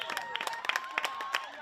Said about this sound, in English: And that draws the applause of this Milford crowd